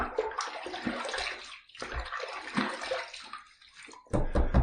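Water splashing close by as a face is wetted before a wet shave, with bursts of scooping and splattering, a brief pause, then heavier splashes at the end.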